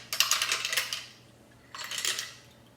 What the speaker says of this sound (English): I'm just going to strain this into the cocktail glass